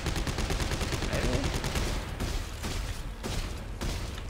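Rapid gunfire bursts from a space video game form a dense, loud, continuous barrage of shots with no talking.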